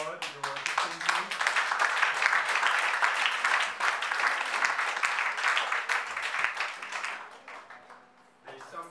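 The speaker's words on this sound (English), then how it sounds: "Let us applaud your achievement." Congregation applauding in church after a sermon, a sustained round of clapping from many people that builds quickly, holds strong, then thins out near the end, with some voices mixed in.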